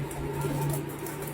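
Pigeons coo softly in a brief, low, rolling murmur that holds steady for the whole moment.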